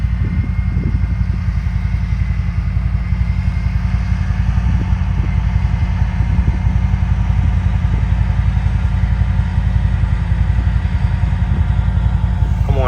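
A tractor works a field before corn planting, ripping the soil with a loud, steady low engine drone and a faint rhythmic clatter, close by and continuous.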